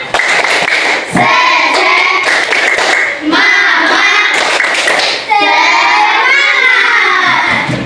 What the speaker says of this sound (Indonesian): Yuk, semuanya tepuk semangat.